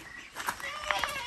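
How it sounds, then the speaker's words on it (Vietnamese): A goat on a rural Vietnamese farm bleats a few short, wavering calls close by, mixed with people talking in the background. "À đây à, dê đây à."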